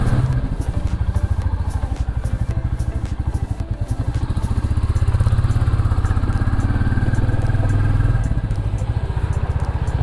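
A new 2021 Royal Enfield Classic 350 motorcycle engine thumps steadily and loudly up close, a continuous rhythmic single-cylinder beat while riding in second gear, with no talk over it.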